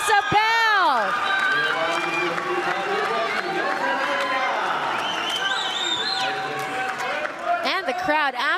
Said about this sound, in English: The crowd absolutely loving what they're seeing here.